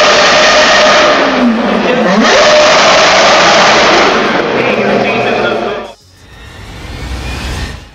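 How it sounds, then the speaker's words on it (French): A Lotus E20 Formula 1 car with a V8 engine roars at full throttle, a loud, sustained high-pitched scream for several seconds that drops off abruptly and then swells again as it revs back up. "la Lotus E20. Avec son moteur V8 classique, elle atteint 125 décibels à pleine charge"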